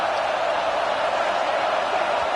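Football stadium crowd roaring on a third down, a dense, steady wall of cheering and noise filling the whole moment without a break.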